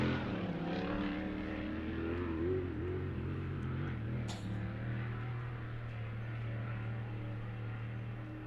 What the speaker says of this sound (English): Stabbing at the throttle a little bit here down the front chute